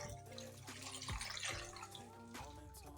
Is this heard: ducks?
no